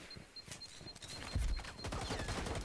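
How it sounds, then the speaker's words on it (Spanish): Grenades burst during an outdoor airsoft match, sharp bangs and rattling pops piling up into a dense volley, with a faint repeating beep in the background. "Humo, más humo, granadas. Otra granada."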